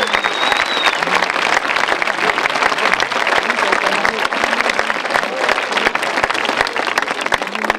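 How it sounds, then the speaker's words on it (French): Audience at an outdoor son et lumière village show in Brebotte applauding, a dense, loud and sustained burst of many hands clapping throughout, with crowd murmur mixed in. "Un applaudissement"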